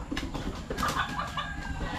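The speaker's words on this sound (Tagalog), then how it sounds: "Ang si Mami Aileen nagbabawog ng manok niya." Chickens being fed in the morning, giving soft clucks and short calls at close range over a low, steady background, with no talking.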